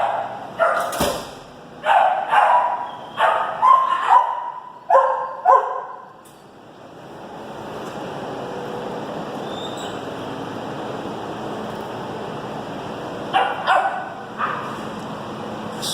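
Several medium-sized dogs at an animal shelter bark in loud bursts, then fall quiet under a steady hum before another short round of barking near the end.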